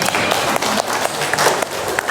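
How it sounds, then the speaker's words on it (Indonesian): Applause in a classroom, a brief burst of many hands clapping close by with uneven, scattered claps over a couple of seconds and no speech over it. "Yuk kasih tepuk tangan untuk kita semua."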